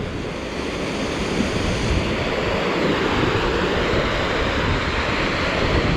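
A flash-flooded creek rushes past like a raging river, pouring through a cutout in a concrete crossing in a loud, unbroken roar with no let-up and no voices.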